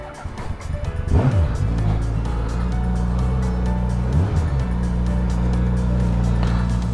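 A Suzuki motorcycle engine revs under throttle, rising sharply in pitch twice against a steady, close idle rumble.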